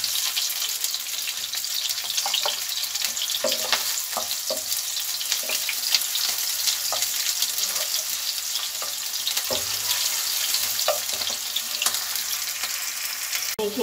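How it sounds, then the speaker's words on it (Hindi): Onions frying in a pan, a loud continuous sizzle with scattered stirring taps and scrapes, and no talking. "प्याज डालेंगे और इनको भूनेंगे।"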